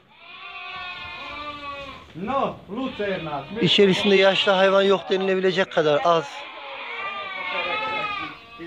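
A young flock of Hungarian Merino sheep, ewes carrying their first lambs, bleat repeatedly and loudly, several overlapping cries close by, while someone talks over them.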